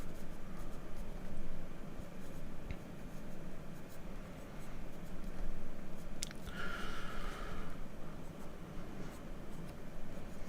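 Pencil drawing a tree branch on paper, a faint, continuous scratchy scribbling with short strokes, heard close and alone.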